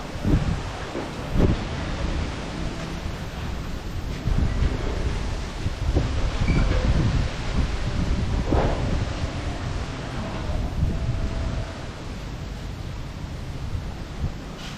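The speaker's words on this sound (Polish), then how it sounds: "Po nas wichura szaleje." Strong gusting windstorm roars and buffets the microphone continuously, with rushing surges and rustling, loud and close with no voices, in Cambodia.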